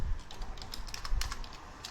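Someone types C++ code on a computer keyboard: a quick run of close, crisp key clicks with uneven rhythm, and no other sound over them.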